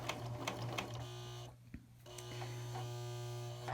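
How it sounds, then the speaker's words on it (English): Serger sewing machine running steadily to gather fabric for playtime shorts, a constant motor hum and buzz with a short pause midway before it resumes, close and continuous. "I love gathering with my serger"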